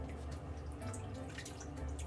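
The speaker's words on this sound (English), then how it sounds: "A little water in there, just bring some of the water out." Water trickling and dripping into a shaving bowl where a synthetic brush works soap, a soft, close, steady liquid patter with no voices.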